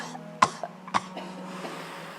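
Two sharp coughs, then a softer throat clearing, come after a long exhalation in a quiet room during a qigong breathing exercise.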